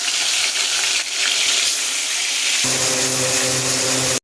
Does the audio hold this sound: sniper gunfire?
no